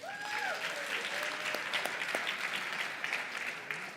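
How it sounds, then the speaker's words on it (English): Applause from an audience at an inter-college entrepreneurship event, a steady patter of clapping with a brief voice in the background at the start, fairly soft overall. "I think you guys deserve a round of applause."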